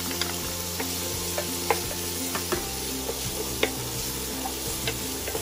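Celery sautéing in a pan for spaghetti with Angus beef, a continuous moderate sizzle with light clicks and taps of stirring scattered over a steady background hum.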